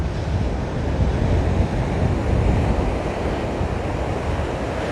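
Surf rolls in steadily at Waimanalo Beach, Hawaii, a broad, continuous wash of waves mixed with heavy wind buffeting the microphone, with no voices.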